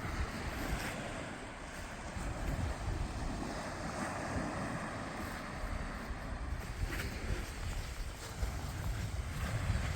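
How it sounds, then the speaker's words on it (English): Sea waves washing on a shore as the tide goes out, a steady rushing surf wash with wind buffeting the microphone throughout, no voices. "The tide is going out."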